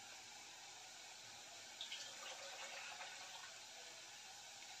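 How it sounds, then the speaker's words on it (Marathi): Soaking water drains off a bowl of soaked chana dal for cabbage cooked in a pressure cooker. A faint, steady hiss of running water swells slightly partway through, with no talk. "ह्यातील पाणी काढून घेते।"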